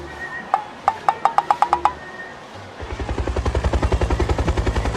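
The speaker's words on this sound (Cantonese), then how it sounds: "有架直升機飛過咗，大家見唔見到？" A helicopter passes over a Shenzhen theme park. A rapid, regular thumping of rotor beats swells in the second half, preceded by a short series of sharp, evenly spaced clicks.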